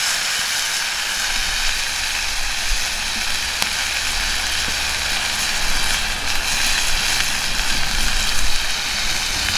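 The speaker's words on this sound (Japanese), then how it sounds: "肉を入れますね" Meat dropped into a hot pan at a campsite sizzles and crackles steadily, a dense, even frying hiss close to the microphone with no voices.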